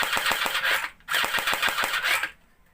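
Full-auto burst from a Tokyo Marui MP5 airsoft gun after repair, a rapid mechanical rattle of shots in two close bursts split by a brief pause, loud and near with no talking.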